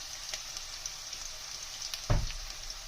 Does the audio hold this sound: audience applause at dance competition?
no